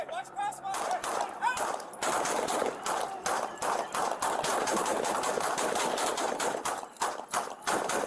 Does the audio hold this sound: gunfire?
yes